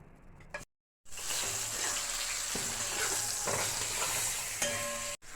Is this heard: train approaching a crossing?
no